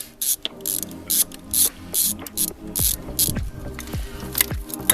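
A ratchet loosens the distributor bolts on a Honda Civic EF engine in the field, giving quick close bursts of clicking pawl strokes between short pauses and softer mechanical knocks.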